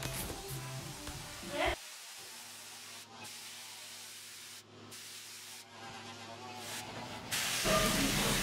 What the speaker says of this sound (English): I spray the back with glue because it's easier to do it here on the table than in the car.